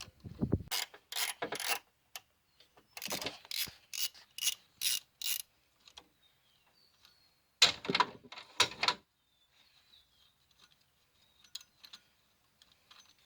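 A ratchet works a 15 mm bolt loose on the power steering pump pulley of a 2000-2003 Mercury Sable, giving bursts of close, loud clicking in uneven runs, then sparser, fainter clicks.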